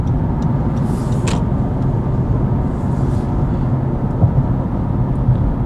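Steady road traffic noise from cars and buses, heard from inside a vehicle in congested, accident-backed traffic, a constant low rumble with a faint higher hiss passing overhead.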